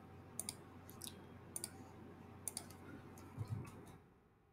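A computer mouse clicks in a few quick pairs at a steady spacing, faint and close against a quiet room hum, with no talking.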